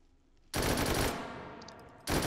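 Thompson carbine, a select-fire open-bolt submachine gun, firing in the VR shooting game H3VR: a loud sustained burst of automatic fire lasting about a second and a half, then a fresh burst starting right at the end.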